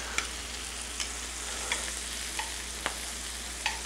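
Butter melts and sizzles softly in a pan of cooked leeks, a steady quiet hiss broken by a few faint clicks and taps of a utensil, with no talking.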